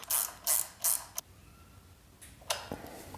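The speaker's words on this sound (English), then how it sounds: "go ahead and tighten the bolt all the way" A ratchet tightens a bolt on a 2016–2022 Kawasaki ZX10R motorcycle during a lowering job, giving a few quick bursts of close, loud clicking, a brief pause, then one more ratcheting burst.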